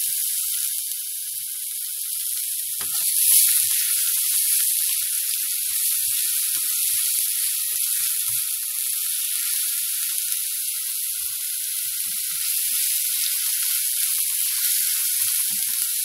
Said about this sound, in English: And we need to fry or soot our garlic.